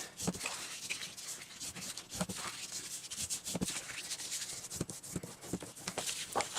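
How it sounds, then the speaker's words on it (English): Paper score lines on a gift card wallet being folded and burnished: a run of close, dry rubbing and scraping strokes in short bursts, fairly quiet, with no talking. "So let's fold and burnish all our score lines."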